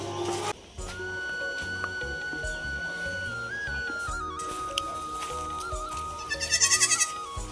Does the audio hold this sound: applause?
no